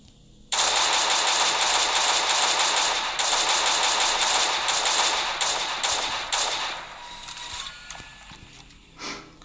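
Automated gun turret in the survival game Last Day on Earth firing a loud, rapid sustained burst of shots that runs for about six seconds, then breaks into scattered shorter bursts before falling quiet.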